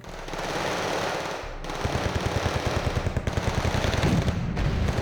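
Automatic weapon fire in a Wargame Red Dragon match: a short lull gives way to rapid, evenly spaced bursts of machine-gun shots, loud and continuous, set against a dense layer of background battle noise.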